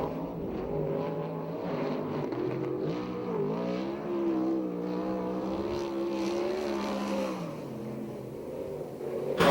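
A USAC/CRA sprint car laps Perris fairground dirt oval, its engine a steady, loud, wavering roar held close throughout, pitch dipping and rising slightly as it works through the turns.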